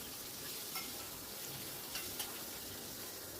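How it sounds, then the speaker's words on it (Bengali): Marinated catla fish pieces frying lightly in mustard oil and being gently turned, a faint, even sizzle with a few soft clicks, close by and without speech. "খুব হালকা করে এপিট উপিট করে নাড়াচাড়া করে আমি এটাকে ফ্রাই করে নেব।"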